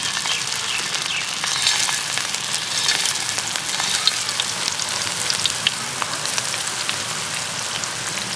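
Onion fritters, shaped round and flat, frying in a shallow layer of white oil make a steady, dense sizzle with fine crackling pops throughout, close and continuous with no talk.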